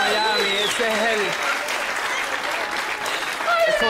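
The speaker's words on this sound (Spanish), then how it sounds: "Un aplauso, por favor." A studio comedy audience breaks into loud, sustained applause mixed with cheering and excited voices, the clapping dense and close throughout.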